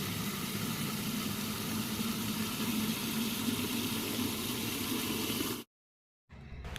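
An electric water pump motor fills a pot with a continuous, even hum and water rush, running steadily before cutting off abruptly, then a short quieter stretch of sound follows.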